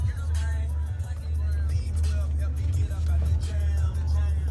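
A car engine droning steadily while being driven during a driving lesson, a low constant rumble close inside the cabin, with faint voices over it.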